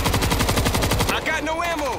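Rapid automatic gunfire in the zombie shooter game World War Z rattles out in a dense, loud, evenly spaced burst for about a second, then gives way to scattered game effects and sliding tones.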